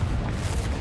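Deep rumbling boom of a Confringo spell explosion in the video game Hogwarts Legacy, a short, heavy, low blast filling the moment with no talking.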